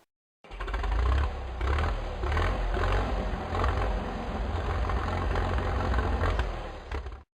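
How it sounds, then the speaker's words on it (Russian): A tractor engine runs loud and close with a rough, chugging low rumble that pulses unevenly, a faint high whine above it, for about seven seconds without talk. "Трактор."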